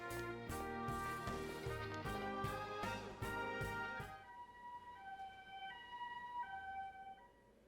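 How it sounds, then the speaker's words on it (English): An ambulance siren in Persona 4 Golden sounds a loud two-tone wail that repeats several times, then fades to fainter tones behind the first sequence. "that's the sound effect for the ambulance"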